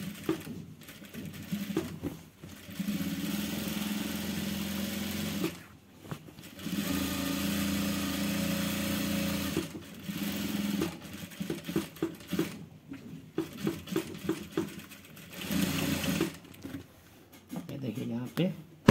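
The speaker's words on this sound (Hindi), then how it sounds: "यहाँ पे हम इसका ऊपर का किनारी सिलाई मार लेंगे।" A sewing machine stitches the top edge of a shirt collar in repeated runs of fast, steady whirring, stopping and restarting, as a person talks between and over the stitching.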